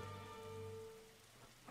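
Rain weather in the video game Sol's RNG gives a soft, steady patter with low tonal game hum underneath, fairly faint and alone.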